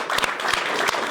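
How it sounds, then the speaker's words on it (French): Studio audience applauding on a French television talk show set, a short burst of dense, steady clapping that fills the room at close range. "on peut l'applaudir bien fort"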